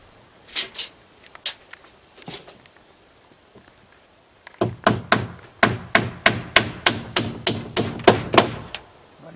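Nails are hammered through house sheathing into wall studs, a few scattered blows first, then a fast, steady run of about a dozen sharp, ringing strikes close by.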